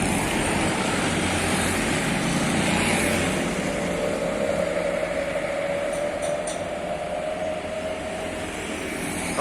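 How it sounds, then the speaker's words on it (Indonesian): Motorcycle engine running through a loud Serigala aftermarket exhaust, a continuous throaty roar with a broad steady rumble that holds at constant strength throughout, close by with no pauses. "Wah, suara knalpotnya tuh"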